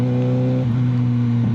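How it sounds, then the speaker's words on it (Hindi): A Kawasaki ZX6R sport motorcycle engine rumbles loud and close in a steady rev, holding a strong, even drone throughout with a slight pitch shift midway. "उसने हाथ निकाला बाहर और मैंने रेव बॉम्ब किया"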